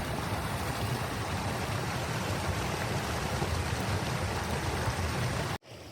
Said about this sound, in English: Little tiniest waterfall.